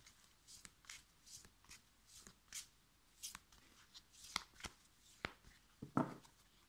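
Tarot cards being shuffled by hand close to the mic, a series of soft riffling swishes and taps repeating irregularly, quiet and unaccompanied.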